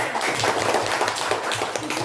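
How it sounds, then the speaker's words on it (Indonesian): A class of schoolchildren claps together in a quick, steady patter, close and fairly loud, continuing throughout without talk. "tepuk tangan semuanya"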